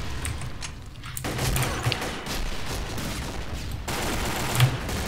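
Gunfire rattles in the online shooter Combat Arms, repeated bursts and shots over a steady background of game noise, with no talk.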